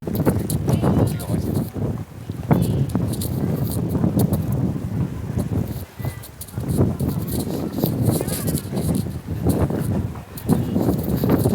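Steady wind buffets the microphone on a hot hiking trail in the Sai Kung UNESCO Geopark, a continuous low rumble that dips briefly and then resumes, with people talking underneath.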